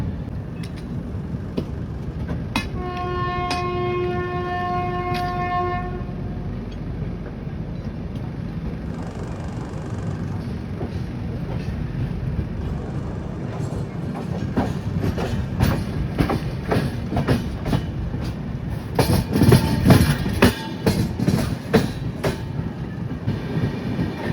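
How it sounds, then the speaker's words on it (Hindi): A train from Danapur passes on the crossing track, its carriages rattling by with rhythmic clickety-clack and a brief horn-like tone early on, heard loudly from inside a moving train over constant rumble. "अब इसी बीच में ही जो ट्रेन दानापुर से आ रही है उसका क्रॉसिंग होगा अपने साथ।"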